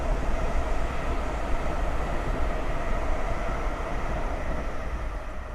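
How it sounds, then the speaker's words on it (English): A train passes close by in the early morning, a steady, loud rumble of wheels and carriages that holds evenly throughout with no voices. "The train just coming along."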